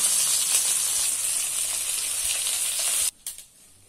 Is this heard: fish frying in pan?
yes